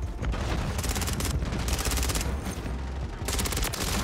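Rapid bursts of ISO 9mm submachine gun fire in Call of Duty Modern Warfare 3 crackle loudly and almost without pause, separate volleys stacking over a dense rumble of in-game battle noise.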